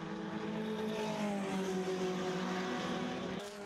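Race cars at the 500 Milhas de Londrina endurance race, with a Ferrari among them as night approaches, drone in a sustained, loud engine roar with slowly shifting pitch before it cuts off near the end.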